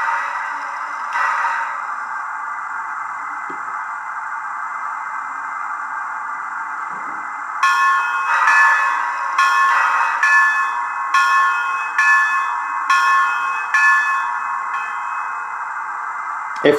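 A Bachmann 4-6-0 model locomotive's sound decoder sounds its bell, a run of evenly spaced metallic dings in the second half over a steady electronic hum, close and moderately loud with no voices.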